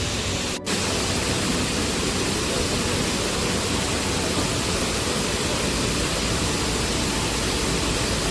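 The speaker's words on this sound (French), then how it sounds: "Attention, on a la cascade au bout" A waterfall in Japan roars as a continuous, broadband rush of water, loud and steady throughout with no voices over it.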